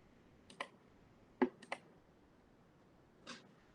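Sparse typing on a computer keyboard, a few quiet separate key clicks, some in quick pairs, with pauses between them in a near-silent room.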